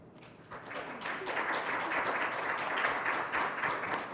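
A seated audience at a panel discussion on debt-related driver's license suspensions applauding the panelists, a dense, steady wash of many hands clapping that builds quickly and holds at full strength, fairly close, with no speech over it.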